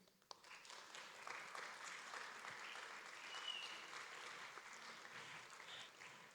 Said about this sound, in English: I'd like you to clap and thank them right now